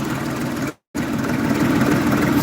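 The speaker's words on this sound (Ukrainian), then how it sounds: "і джинма працює." A Jinma tractor engine runs just after a cold start in winter frost around minus seven, a steady, close, buzzing diesel drone with a brief drop to silence before it resumes unchanged.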